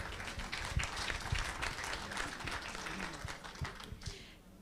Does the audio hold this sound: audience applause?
yes